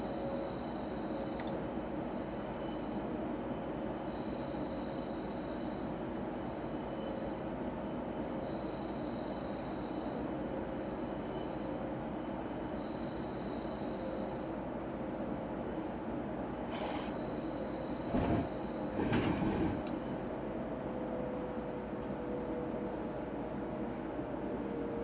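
BR 481 S-Bahn electric train from Train Simulator Classic running steadily with a constant low rumble and hum, brief squeals and clunks near the end, no speech.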